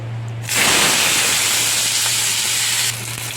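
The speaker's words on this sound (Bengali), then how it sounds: "তেল গরম হয়ে গেছে, মাথাগুলো আস্তে আস্তে ভেজে নেব" Hilsa fish heads fry in hot oil, a loud, steady sizzle that starts abruptly and runs for a few seconds before cutting back to a quieter background hum.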